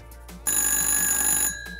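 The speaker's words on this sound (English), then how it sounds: "that's the phone ringing" A telephone rings with one bright electronic ring burst of about a second, loud and close, set between quieter moments.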